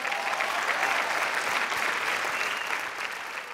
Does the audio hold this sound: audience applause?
yes